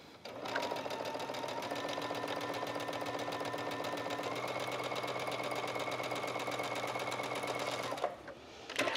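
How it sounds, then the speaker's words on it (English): A sewing machine runs steadily for about eight seconds, edge stitching along a fabric fold for a flat felled seam, with a fast even whirring hum that then stops and gives a few brief mechanical clicks. "And then I just top stitch or edge stitch right along that fold."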